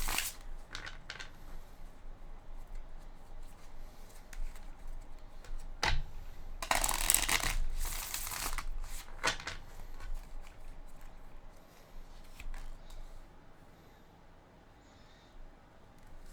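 Tarot cards shuffled by hand in a quiet room: soft rustling riffs with a dense flurry of card flutters in the middle, then lighter scattered slaps and taps of cards settling.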